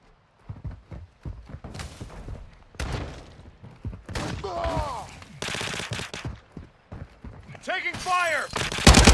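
Gunfire in a Modern Warfare 2 multiplayer match: close bursts of rapid automatic shots and single cracks in uneven clusters, with shouted voice callouts in between.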